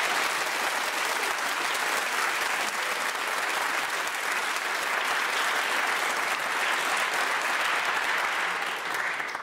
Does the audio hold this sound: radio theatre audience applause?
yes